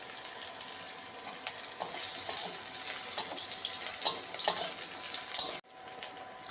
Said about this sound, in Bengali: পরিমাণ মতন তেল দিচ্ছি প্রথমে সয়াবিনটা ভেজে নিই